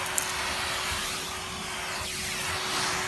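A Henry cordless vacuum cleaner runs steadily while picking up bits off the floor, a constant whirring motor with a fixed hum, near and moderately loud, with a faint tick at the start and no speech.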